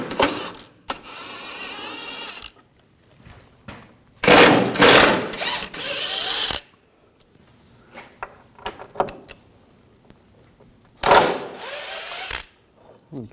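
Bolts being removed with an M10 triple square socket on the front lower rearward control arm of a 2006-2009 Audi S4 Convertible, with several loud bursts of power-tool whirring separated by quieter clicks and handling noises.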